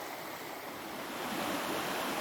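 A creek runs outdoors with a steady, broadband rush of flowing water, close and continuous, swelling slightly toward the end with no voices.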